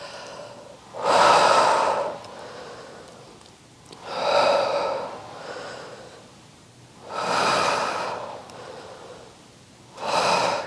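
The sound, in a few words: breathing during a Pilates reformer exercise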